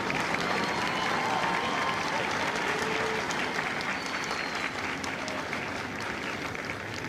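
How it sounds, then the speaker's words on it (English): Sustained audience applause at a Marine Corps recruit graduation ceremony for Kilo Company at MCRD San Diego, a dense steady wash of clapping from a large outdoor crowd lasting throughout, easing slightly toward the end. "Please join me in a round of applause for the company staff of Kilo Company"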